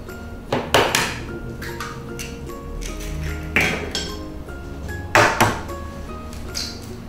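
Three eggs cracked one after another into a bowl of chicken pie batter, each a sharp shell tap and clink against the bowl at even intervals, close and clear over quiet kitchen background.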